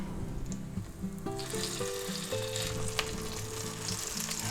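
Corned beef hash patties fry and sizzle steadily in a hot pan, a close, continuous crackle with a few scrapes and taps of a utensil partway through.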